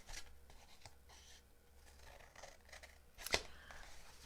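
Scissors snip through card stock while trimming corners for a spring Easter basket craft, a single sharp close cut standing out from quiet handling rustle.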